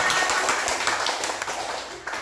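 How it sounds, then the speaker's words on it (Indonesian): A class of children clapping together in a classroom, a dense, steady patter of many small hands close by for the whole moment, with no talk over it. "Ya, tepuk tangan semuanya."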